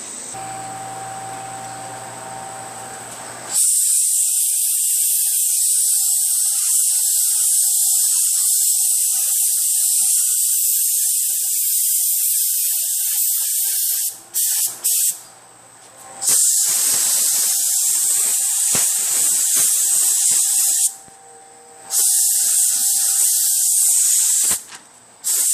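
A paint spray gun hisses steadily as it coats a bed panel on a 2004 Toyota Tacoma, loud and close in long continuous passes broken by a few short pauses between strokes.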